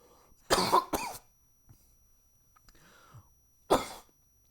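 A person coughs in short sharp bursts, first a quick double cough, then a lone cough a few seconds later, with a faint throat noise between, close and otherwise quiet.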